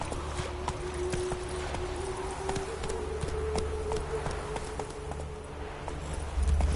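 A horse galloping in The Witcher: Wild Hunt, rapid rhythmic hoofbeats close up over a steady low game ambience, with a faint tone running underneath.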